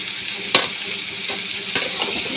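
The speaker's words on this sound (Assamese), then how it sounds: "এতিয়া অলপ মই ভাজিম" Chicken meat sizzles in hot oil in a pan, a steady close crackle broken by a few sharp scrapes as a spoon stirs it.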